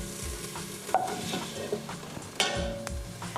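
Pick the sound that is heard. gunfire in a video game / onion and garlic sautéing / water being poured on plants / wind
onion and garlic sautéing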